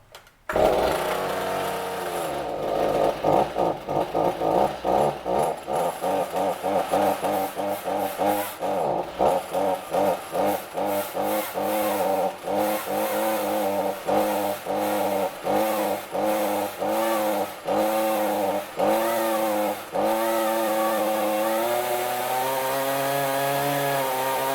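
A new Stihl chainsaw starts up and runs close by, revving repeatedly in quick rising-and-falling bursts over a steady buzzing idle, with no talk.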